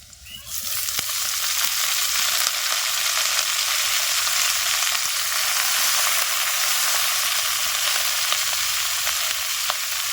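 Leafy greens fry and get stirred in a pan with a loud, steady sizzle that builds in the first second and holds evenly, with scraping stir sounds on top and no speech.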